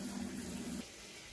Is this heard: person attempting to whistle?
no